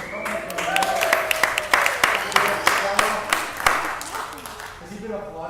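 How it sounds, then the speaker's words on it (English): A church congregation applauding at a gathering, a warm crowd of clapping hands rising and fading over several seconds with voices talking alongside. "has he been applauded for in a group?"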